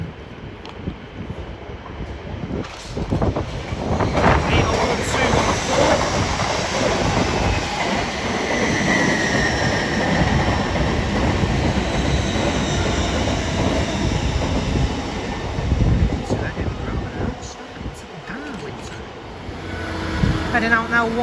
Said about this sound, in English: Heading up now is an LNER Azuma about to pass the station.